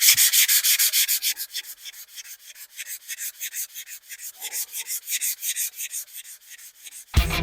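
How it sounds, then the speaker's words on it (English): A guitar neck is hand sanded in long, steady back-and-forth strokes, a close, rhythmic rasping scrub that carries on throughout with no talk. "I'm going to hand sand it"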